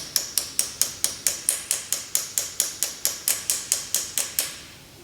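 Socket tapped with a hammer to seat an engine oil seal on an Audi diesel engine: about eighteen sharp, evenly spaced metallic knocks, close and loud, ringing briefly before fading at the end.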